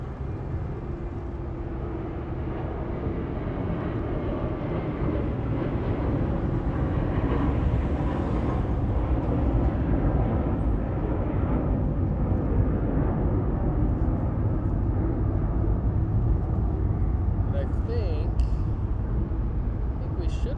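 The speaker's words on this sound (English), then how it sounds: "coming up next, we have JetBlue 6100 headed to Fort Lauderdale" A JetBlue airliner departs Los Angeles International Airport, heading for Fort Lauderdale. A broad, distant jet roar builds gradually into a steady rumble that fills the whole stretch.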